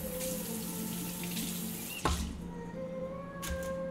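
Tap water runs steadily into a sink while a lime is washed in a messy kitchen, a soft continuous rush with a single brief splash or knock partway through.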